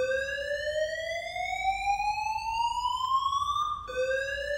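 A church evacuation alarm sounds during a fire drill as a loud electronic whoop. Its harmonic-rich tone sweeps steadily upward, cuts off briefly, then restarts low and begins climbing again.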